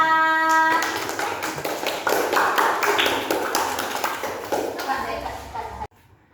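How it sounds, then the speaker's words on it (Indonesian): Students in a classroom clap for a classmate: a burst of quick, uneven claps from a small group right after a voice, fading and stopping abruptly near the end. "Ini tepuk tangan untuk Alfa."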